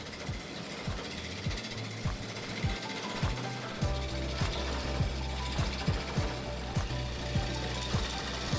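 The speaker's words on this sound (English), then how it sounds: "If you focus on the spinning piece of wood on the lathe, you can see how I carved it down from a square to a circle" A wood lathe spins a piece of wood carved from square to round, a steady mechanical hum with a regular rhythmic knocking throughout, moderately close.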